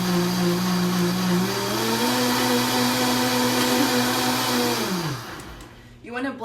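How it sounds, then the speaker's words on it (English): A kitchen blender whirs loudly and steadily, mixing almond milk and cream cheese for a pumpkin cheesecake smoothie, then spins down and stops after about five seconds, followed by a brief clatter. "We'll just blend that together."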